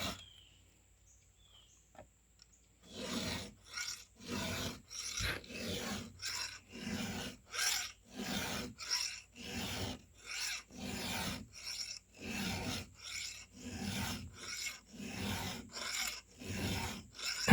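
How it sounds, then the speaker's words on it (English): Hand file rasping across a chainsaw chain's cutters during sharpening, steady strokes about one per second, close and crisp, starting after a brief quiet lead-in and continuing without talk. "It takes patience to sharpen a chainsaw."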